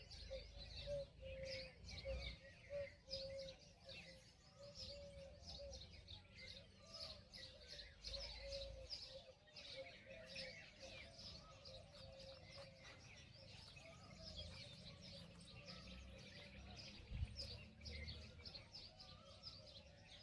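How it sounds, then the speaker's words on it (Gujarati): Cuckoos, sparrows, doves and pigeons chirp, tweet and coo steadily around a village cremation ground in Peplu, a busy layered chorus with no one speaking. "તમે બે ઘડી હું બંધ થાઉં છું તમે કલરવ સાંભળો ખાલી પક્ષીઓનું"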